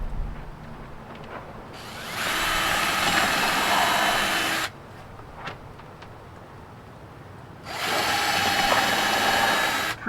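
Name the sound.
power drill pre-drilling holes in sluice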